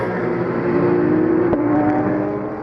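A race car, a Porsche 911 in a ROSCAR endurance race at Val de Vienne, accelerates toward the finish line, its loud engine tone climbing steadily over about two and a half seconds.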